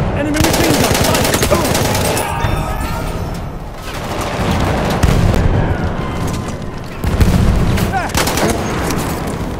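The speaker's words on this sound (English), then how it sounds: "Enemy machine gun! Fire!" Sustained rapid machine gun fire from the video game Battlefield 1, loud and dense with overlapping bursts and booms of battlefield combat throughout.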